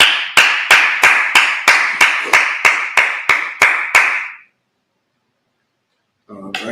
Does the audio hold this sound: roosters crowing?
no